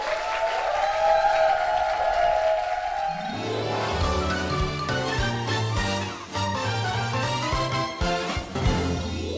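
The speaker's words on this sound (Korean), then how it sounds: "앞으로도 정말 주님 전하는 두 분 되실 수 있도록 힘찬 축복의 박수 부탁드리겠습니다" A church audience claps together, first faintly under a sustained tone, then swelling into loud, dense applause with music underneath.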